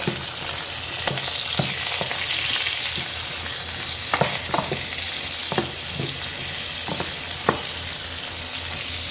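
Meat sizzling and frying in oil in a home kitchen pan, a steady crackling hiss broken by sharp pops and spatter bursts, close and continuous, with no talking.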